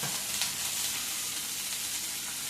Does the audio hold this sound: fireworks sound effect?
no